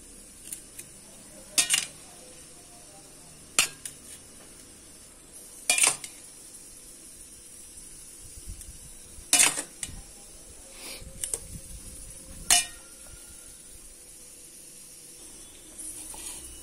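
Rice is spooned into a child's lunchbox in a home kitchen. A quiet room carries a series of sharp, spaced metal clinks and taps as the serving spoon strikes the container every couple of seconds.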